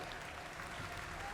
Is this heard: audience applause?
yes